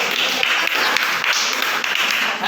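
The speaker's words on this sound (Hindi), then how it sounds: "जोरदार तालियां।" Strong classroom applause, a dense steady patter of many hands clapping together for about two seconds with no voices on top.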